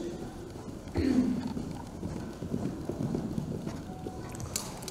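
Icelandic horse moving in trot and then tölt, soft rhythmic hoofbeats at moderate distance, light and regular, with faint background noise.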